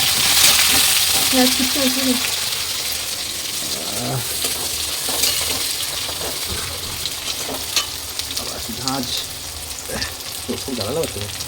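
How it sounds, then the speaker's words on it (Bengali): Spices and onions fry in a pan while biryani is being made, a steady close sizzle with scraping stirs and occasional clinks of a utensil, a voice talking briefly over it. "মশলা কষছি"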